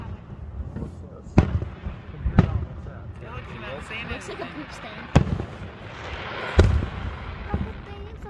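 July 4 fireworks exploding in four sharp, booming bursts spread over several seconds, with crackling in between and people talking throughout.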